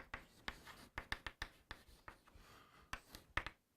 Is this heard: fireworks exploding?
no